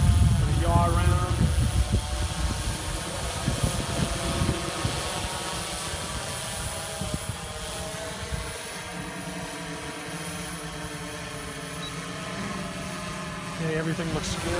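A DJI S1000 multirotor drone hovers in place and flies nearby, its steady whirring rotor drone continuous and fairly loud throughout, with someone talking over it.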